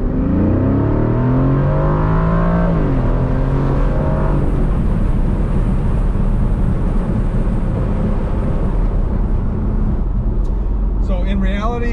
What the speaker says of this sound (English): it's accelerating almost as quickly as it does in track, but when it shifts, it's not quite as hard